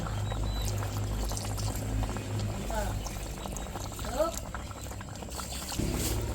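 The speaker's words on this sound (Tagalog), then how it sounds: "lalagyan na po natin ng sukang sasa" Nipa palm vinegar (sukang sasa) is poured into a pot of simmering lechon paksiw. A steady liquid pour and bubbling run under a speaking voice, with a brief clatter near the end.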